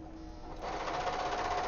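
A serger-style sewing machine that trims off mistakes while stitching a new seam whirs steadily with a fast, even rhythm, close and moderately quiet, speeding up after a brief softer start.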